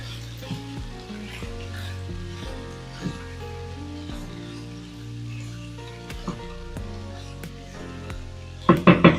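Shredded cabbage for Jamaican fried cabbage sizzles steadily in a hot pan while being stirred, with occasional scraping knocks and a flurry of louder clatter near the end.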